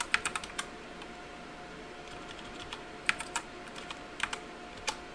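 Keys clatter on a computer keyboard in short irregular bursts of clicks with gaps between, close and fairly quiet over a faint steady hum.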